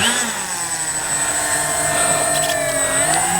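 A steady, high-pitched electric motor whine drones continuously at constant loudness, rising slightly in pitch near the end, from a radio-controlled model B-25J warbird airplane flying nearby.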